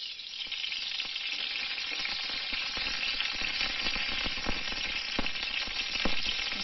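Onions and green chilies frying in a little oil in a kadai, a steady bright sizzle with scattered crackles and stirring clicks throughout, with no talking.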